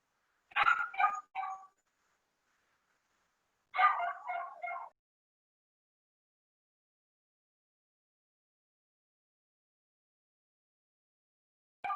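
A small pet dog gives a few quick yipping barks and whimpers in two short bursts, close by, with silence between them and a brief sound at the very end.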